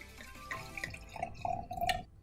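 Red wine from a freshly opened bottle pours into a glass, a steady liquid trickle with small gurgles and drips, close and moderately quiet, no voices.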